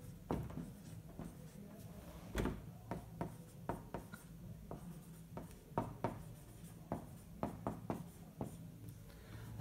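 Chalk or marker writing on a board in a photography lecture: quiet, irregular taps and scratchy strokes repeat in quick clusters, with no one talking.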